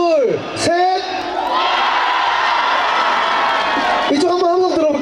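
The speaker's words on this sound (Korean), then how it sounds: "우리 그쪽부터 함성 한번 들어볼게요" A large outdoor concert crowd at Daejeon's Ppuri Park, performing for a singer in the rain, erupts into loud, sustained cheering and shrill whoops on cue, with a performer's voice heard at the start and end.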